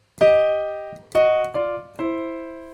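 Four struck piano chords in a boogie-woogie pattern, played slowly, each a clear attack left to ring and decay before the next, with the last two coming closer together; close and fairly loud with no talking.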